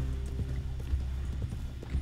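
Horse hooves clip-clop in a steady rhythm during a ride in Red Dead Online, close and fairly loud over a constant low rumble of game ambience, with light talk faintly underneath.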